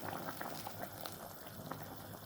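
A pot of cauliflower curry with added gravy simmers and bubbles, a soft continuous crackle of small pops and gurgles heard up close at low volume, with no voices.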